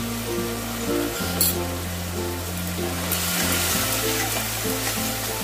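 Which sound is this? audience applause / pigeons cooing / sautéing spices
sautéing spices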